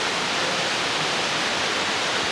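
A waterfall at the top of a cave roars as a steady, dense wash of rushing water, loud and unbroken, with no voices over it.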